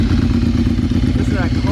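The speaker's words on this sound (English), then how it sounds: "Classic Ducati sound right there." The engine of a 2020 Ducati Streetfighter motorcycle idles close by, a loud, lumpy low throb with rapid, even pulses and a clattery edge, under a brief voice.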